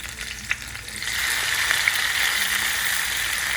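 Chopped tomato drops into a hot pan and sizzles loudly, the frying hiss swelling after a brief clatter and then holding steady, close and continuous with no talking.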